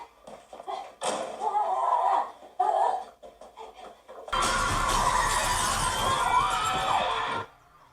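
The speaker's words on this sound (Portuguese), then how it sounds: "As crianças quebram o vidro como se não fosse nada," Glass shattering in a horror film, with children smashing it, a loud crash of breaking glass and debris that fills the second half, after earlier muffled thumps and bursts of film sound.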